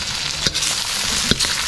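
Prawns sizzle in garlic butter in a hot pan, a steady bright frying hiss with a couple of sharp spits and stirring clinks, close and alone without talk.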